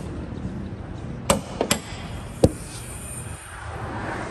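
A car's hood being opened: a few sharp metallic clicks and clunks from the latch and hinge, standing out against quiet background noise.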